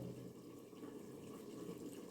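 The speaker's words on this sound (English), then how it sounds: "In that add water." Water running and splashing into tamarind in a kitchen while cooking chicken, a steady close liquid pour lasting about two seconds with no talk.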